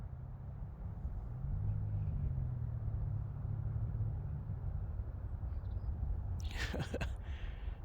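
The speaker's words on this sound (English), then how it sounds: "Traffic." Low, steady rumble of road traffic passing near a Yellowstone National Park campsite with an amphitheater, faint and distant, with a brief rustling noise near the end.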